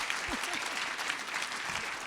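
Dense applause from an audience at an Economic Club of Indiana talk, steady clapping that fills the whole moment at moderate volume, with a few faint voices underneath.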